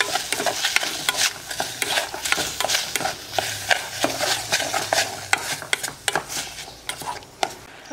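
Cut strawberries stirred in a pot with a spoon, giving steady scraping and rubbing strokes with soft knocks against the pot, close and fairly loud, without talk.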